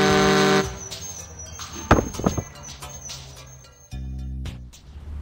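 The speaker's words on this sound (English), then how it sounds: "Honking horns." Cartoon train horns in a Chuggington storybook app, two loud sustained honks at the start and end with clattering and chopping effects in between.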